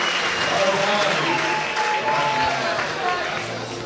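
Spectators cheer and clap at the Gravity Bowl bouldering competition in Cape Town, a lively burst of applause with scattered whistles and crowd noise, close and sustained before easing slightly at the end.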